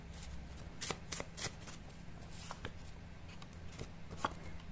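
Tarot cards are shuffled close by in soft, quiet riffling bursts, a series of crisp flicks and slides with no talking over them.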